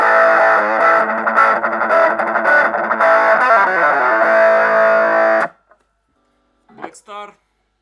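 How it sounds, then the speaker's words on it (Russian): An electric guitar plays loud overdriven chords through a Marshall MS-2 mini amp at full volume with tone turned down, buzzy and saturated, then cuts off, followed by a brief quieter strum. "Маршал MS-2, громкость на полную, тон убран, канал овердрайв."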